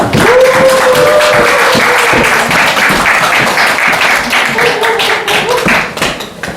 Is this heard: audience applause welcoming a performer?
yes